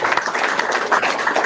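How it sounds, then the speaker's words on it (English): A brief burst of audience applause for a presenter at a developer talk, many hands clapping in a dense, even patter. "I think a bit of a round of applause."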